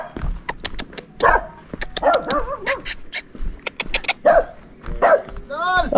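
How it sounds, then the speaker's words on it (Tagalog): Several dogs come up to greet, giving sharp close barks and yips with some whimpering. The bursts are loud and repeated, with a voice mixed in among them. "mga aso sasalubong sa akin dito"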